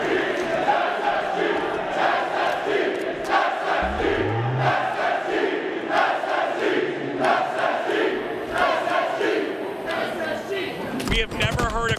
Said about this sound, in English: We have never heard a crowd this loud in all of Season 2.